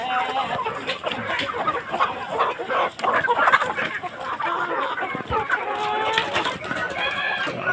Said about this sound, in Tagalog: Malusog na malusog ang ating mga alagang manok